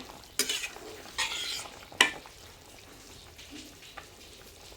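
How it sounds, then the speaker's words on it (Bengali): Fish curry with red amaranth stems in a pan, with a soft bubbling simmer beneath several sharp clinks and scrapes of a utensil against the pan, close up and without talk. "দেখো কেমন বক করে ফুটছে।"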